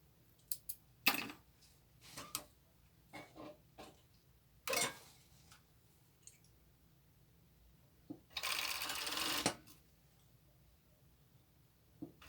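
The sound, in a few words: sewing machine sewing a croptop neckline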